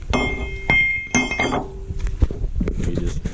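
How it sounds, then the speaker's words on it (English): Several sharp metallic clinks ring out in a short burst as a hammer taps an excavator bucket tooth pin, then lighter taps and knocks follow, close by with faint background noise. "You just tap it in with the hammer."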